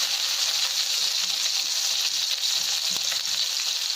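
An egg fries in a pan with a steady, close hiss and crackle of oil throughout, with a faint soft scrape near the end as it is turned; no talking.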